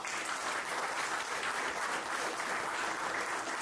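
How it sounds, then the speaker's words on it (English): A hall audience at a PGDM class-of-2025 event claps in dense, steady applause that holds at an even level for the whole stretch without a break. "I request all of you to give me a huge round of applause."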